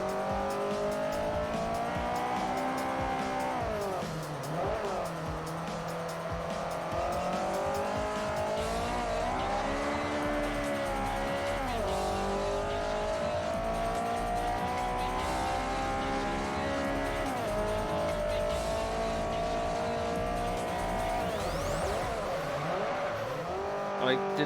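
A car in Forza Motorsport 4 sitting high without racing suspension, its engine droning and revving through long sliding drifts with repeated tire squeal, continuous and close for the whole stretch.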